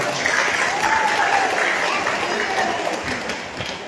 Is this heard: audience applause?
yes